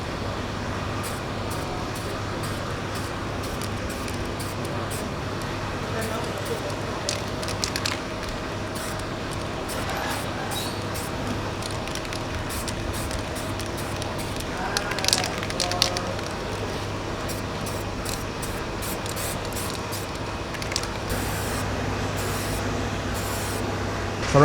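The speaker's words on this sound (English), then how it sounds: "today we're gonna spray the valve cover with yellow color." Yellow paint is sprayed onto an engine valve cover in a steady, continuous hiss lasting the whole stretch, close and fairly loud, with a few faint clicks and bumps in the background.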